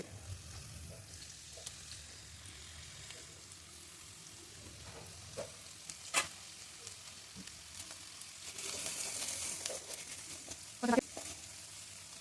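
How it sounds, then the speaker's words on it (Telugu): Onions fry in oil with chilli powder, salt and spices, giving a constant close sizzle broken by scattered scrapes and clacks of a stirring spoon, with a louder hissing burst near the end. "కొంచెం పచ్చివాసన పోయేంతసేపు మంచిగా గోలాలి"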